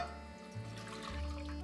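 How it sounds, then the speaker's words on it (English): Milk pours into a pot in a kitchen while making gnocchi alla romana, a faint, soft liquid trickle and splash heard up close over low background hum. "So, pour the milk in the pot."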